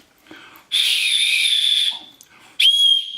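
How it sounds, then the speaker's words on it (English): A shrill metal whistle from a survival kit is blown hard in two blasts, a long piercing one followed by a shorter sharp one, close and loud. "It has a metal whistle, which all the kits pretty well had."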